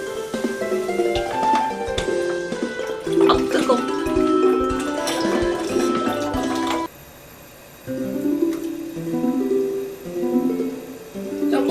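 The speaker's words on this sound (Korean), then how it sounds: "여기다가 이제 국물을 넣고" Broth pours into a pot for tteokguk, rice cake soup, with a gurgling, splashing rush of liquid that runs for several seconds, breaks off briefly, then resumes, close and moderately loud.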